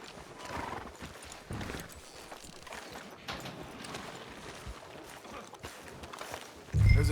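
Horse hooves clip-clop at a steady walking pace in Red Dead Redemption 2, close and moderately loud, with a brief horse whinny and a louder thump near the end.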